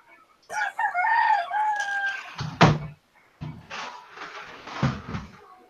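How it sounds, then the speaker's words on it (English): A rooster crows loudly and close in one long drawn-out call, then a sharp knock and scattered rustling noise follow. "I'm going to put you on mute while I go yell at a rooster."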